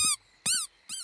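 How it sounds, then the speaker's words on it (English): A squeaky toy in a cartoon squeaks three times in quick succession, each squeeze a bright, close, high-pitched honk with a brief silence between. "It's a squeaky toy."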